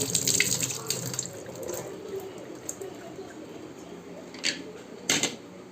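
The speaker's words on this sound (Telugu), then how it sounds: "ఒకసారి ట్యాప్ కింద పెట్టి వాటర్తో వాష్ చేసుకోండి" A pressure cooker whistle is rinsed under running tap water, a steady splashing flow with a few sharp metallic clicks and knocks against the sink.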